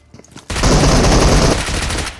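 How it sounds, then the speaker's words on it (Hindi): Rapid automatic gunfire in a mobile battle royale game: a loud, dense burst of shots lasting about a second, then fading, with a few faint clicks before it. "मैं 2 गोली चिपका के उसका किल ले लेता हूँ"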